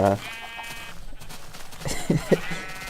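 Sheep bleat in a Minecraft video game, one drawn-out bleat at first and then two shorter, closer bleats near the end over quiet game ambience.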